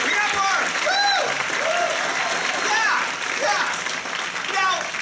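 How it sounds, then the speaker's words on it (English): A theater audience at a live musical show claps and cheers for a favorite song, a steady wash of applause with whoops and shouting voices rising over it. "give it a huge applause. Let's practice now."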